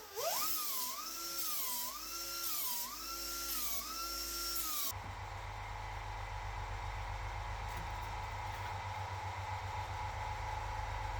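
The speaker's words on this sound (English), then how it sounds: "So what we'll do now is just deburr the edges" A power tool deburrs the metal edges of a classic car panel, first a whirring tone that rises and falls in a repeated cycle, then a steady, buzzing grind that holds close and even to the end.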